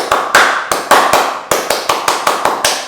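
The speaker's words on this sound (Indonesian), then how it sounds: "Tepuk pramuka." Pramuka scout rhythmic clap: about ten sharp, loud hand claps in a patterned beat, the gaps uneven, with no voices over them.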